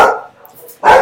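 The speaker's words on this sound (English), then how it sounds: "Dogs are going wild." Two loud, close dog barks come about three quarters of a second apart, with a short quiet gap between them.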